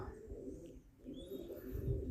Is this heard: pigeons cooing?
yes